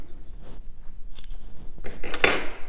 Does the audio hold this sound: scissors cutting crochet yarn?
yes